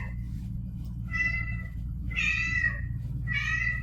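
A pet cat meows indoors at close range. Three distinct meows come at roughly even intervals over a low background hum, and no one talks over them.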